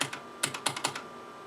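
Keys tapped on a computer keyboard during a DOS virus demonstration, a handful of quick, crisp clicks in a short irregular burst, close and fairly quiet with no talk.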